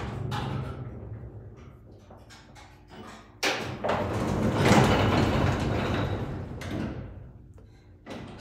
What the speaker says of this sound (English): So the pneumatic doors go for the outside, and then there's an operator for the top, or for the inner.